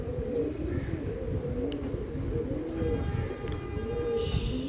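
Repeated soft, low cooing from a Lakha pigeon, a fine flying breed, murmuring steadily throughout amid a light background hum.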